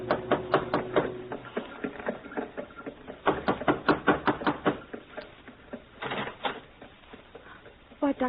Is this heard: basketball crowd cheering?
no